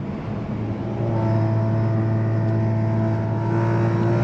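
A Kia Stinger fitted with catless downpipes rumbles loudly close by, its deep exhaust drone holding steady and rising slightly as it revs.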